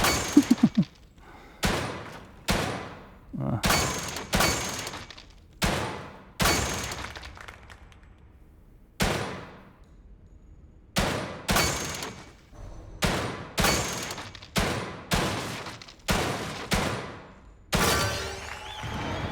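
Gunfire in the survival horror game The Evil Within 2, with loud, sharp shots ringing out one at a time at irregular intervals, each followed by a short decaying tail, about a dozen and a half in all.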